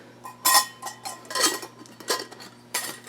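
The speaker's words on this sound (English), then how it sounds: "Put your 2 reels in." Two stainless steel 35mm film reels are dropped into an old 1960s Honeywell Nikor stainless steel developing tank, giving close, loud metallic clinks and clatters in several bursts with no talk.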